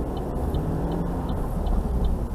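A car's turn-signal indicator ticks faintly at an even pace while moving off, each click sitting over a steady, dense engine and road hum inside the car.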